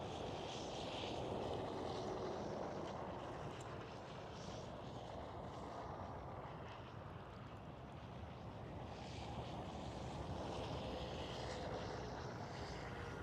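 An aircraft crosses the center runway at Amsterdam Schiphol airport, its steady broadband engine roar heard from a distance and holding at an even level throughout, with no talk.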